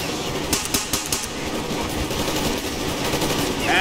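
Rapid bursts of automatic gunfire crackle in quick succession over a constant noisy background, loud and close, in the video game Metro Exodus.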